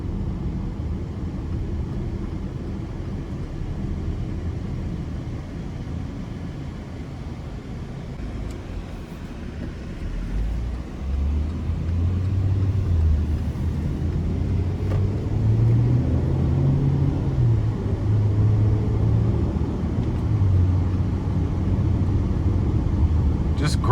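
A 2020 Chevy Equinox LT with its 1.5-liter turbocharged engine accelerates in a front-wheel-drive test drive, a steady cabin rumble that swells into a rising, droning engine note partway through.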